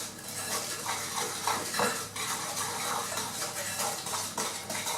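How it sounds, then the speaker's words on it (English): Cake batter being mixed in a bowl until creamy, a steady busy clatter of utensil against bowl with soft scraping and stirring strokes throughout, close and continuous with no talking. "So we'll just mix that together until it starts becoming nice and creamy"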